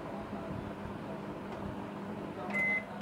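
Bajaj 2005 ETB microwave oven starting an auto defrost cycle on a 500 g setting: a steady low hum runs throughout, and a single short electronic beep sounds near the end.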